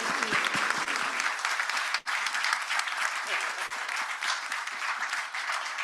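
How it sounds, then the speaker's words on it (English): An audience at a panel event on the ICJ climate ruling gives a sustained round of applause, a dense, continuous clatter of many hands filling the room for several seconds. "Can we please give a big round of applause to all our panelists"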